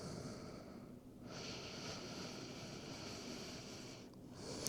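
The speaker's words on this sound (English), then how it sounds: "letting the exhales be just slightly longer than the inhalations" Slow, steady yoga breathing during a calming hatha flow, long airy exhales that continue with only brief pauses for inhales, close and soft with no talk.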